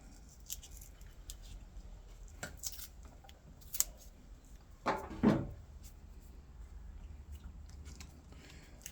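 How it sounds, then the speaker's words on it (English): Cutters snipping off a part during a Yamaha SRX600 motorcycle restoration in a quiet workshop, heard as a sharp crunching cut near the middle amid a few small clicks and handling noises. "I'll just get my cutters. Cut that off there."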